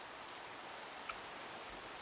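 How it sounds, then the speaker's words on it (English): Video game rain falls as a steady, soft hiss of drops on a surface, faint and unbroken throughout with no voices. "Oh joy, thankfully rain."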